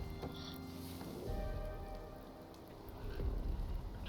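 Rain falling in the survival video game Icarus: a faint, steady patter of drops on surfaces, soft and continuous with no voices.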